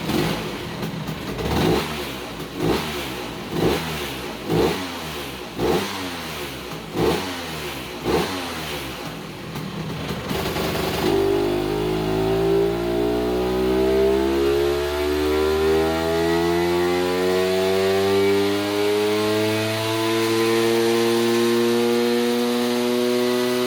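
A Vespa P200E scooter with a 208cc kit on its stock cylinder revs on a dyno: a series of short, loud throttle blips, then one long sustained run climbing steadily in pitch to high revs.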